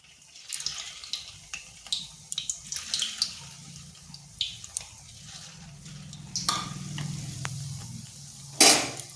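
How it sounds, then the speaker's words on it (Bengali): Semolina nikuti sweets fry in oil with a soft, steady sizzle, broken by scattered close clinks and scrapes of a utensil stirring the pan and one sharper clatter near the end. "এরপর ওই তেলের মধ্যে এই নিকুতিগুলো ভেজে নিচ্ছি।"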